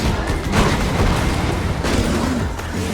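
A grenade explosion in the video game Borderlands, a loud rumbling boom that swells and sustains with rolling low-end blasts over about three seconds, no talk.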